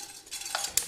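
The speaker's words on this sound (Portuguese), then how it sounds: "O meu arroz já tá lavadinho e eu vou colocar aqui na minha panela." Washed rice goes into a cooking pot with a few light clinks and a soft scattering patter, ending in two sharper knocks against the pot.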